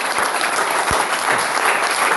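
A church congregation applauds together in steady, dense clapping that fills the room at an even loudness throughout, with no speech over it.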